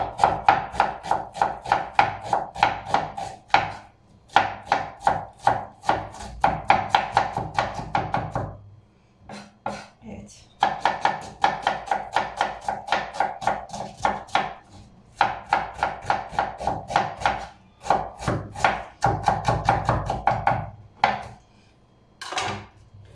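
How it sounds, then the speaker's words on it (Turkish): A knife taps rapidly on a cutting board in quick bursts of finely chopping onion, with short pauses between runs; no one speaks. "Şimdi şöyle incecik incecik doğrayacağım semizotumun içine."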